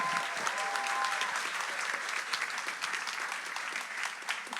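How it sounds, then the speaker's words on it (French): Congregation applauding a baptism candidate at a church baptism celebration, steady crowd clapping held at a moderate, somewhat distant level throughout, with a faint voice briefly rising early on. "Et on peut applaudir Léo."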